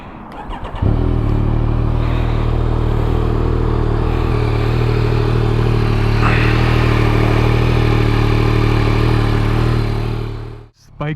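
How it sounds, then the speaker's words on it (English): A 2022 Yamaha MT-09 motorcycle engine starts and settles into a steady, loud, close idle with a throbbing low rumble and light mechanical clatter, holding evenly for about ten seconds before cutting off. "Bike's all warmed up, and we're ready to give this thing a first ride."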